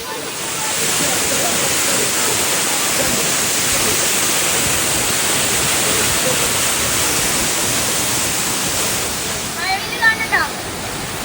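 Waterfall near Manali roaring as a loud, steady broadband rush close by, with a faint voice at the very end.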